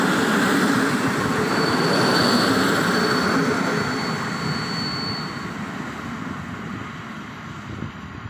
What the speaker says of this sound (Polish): Tak więc pociąg Intercity chełmoński już odjechał.